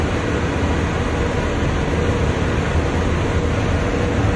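A ship's engine drones steadily at the stern while the vessel sails from Kerala to Lakshadweep, a dense continuous low rumble with a broadband wash, loud and unbroken, with no voices.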